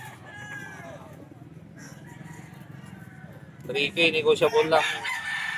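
Bulik gamefowl roosters crow at a pet market. One rooster delivers a loud, close crow near the end, and faint crowing from other birds sits under a murmur of market voices.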